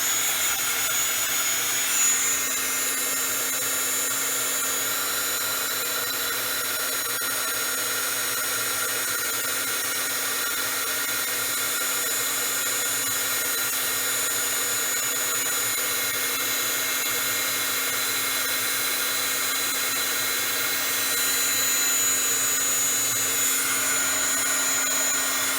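A heat tool blows continuously over a heat-resistant craft mat while heat-setting embossing, a steady whooshing hum of moderate loudness holding for the whole stretch with no talk.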